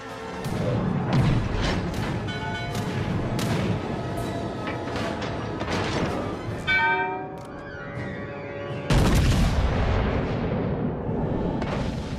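Heavy naval guns boom in World of Warships: Legends, a King George V-class battleship firing in loud, dense salvos over a constant rumble of battle noise, with a sharp burst near the end.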